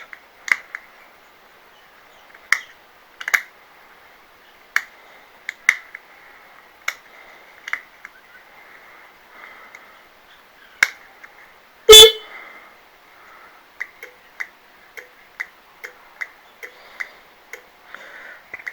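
Sharp turn signal relay clicks at irregular intervals with one loud click partway through, set against near silence.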